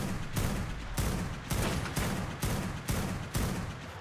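Rapid gunfire in the video game ARK, loud bursts repeating in an even rhythm roughly every half second, each blast dense and forceful with no voices over it.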